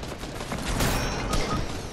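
Sniper rifle gunshots ring out in an online shooter game, with two sharp cracks about half a second apart over a noisy game background.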